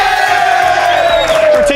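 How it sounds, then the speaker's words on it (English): TV studio audience at a live tech-and-gaming talk show cheering, whooping and yelling loudly together in a dense, continuous roar with no pauses. "What a great crowd today."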